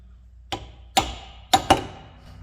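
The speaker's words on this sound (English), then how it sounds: "It's just showing smacking it out with a hammer, you know, a nice soft hammer" Brass drift struck with a hammer to knock out the pinion of a GM 10 bolt rear axle, four sharp metallic blows close by, the last two in quick succession.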